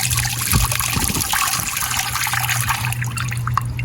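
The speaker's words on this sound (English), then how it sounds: "And add some water to it." Water trickles and pours onto salt fish in a cooking pot, a continuous close splashing over a steady low hum, with no talk.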